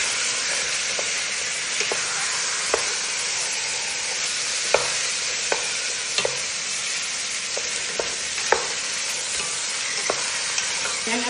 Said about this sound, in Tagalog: At nilagay itong chicken. Mix ko lang siya ng konti para maalis yung lasa niya.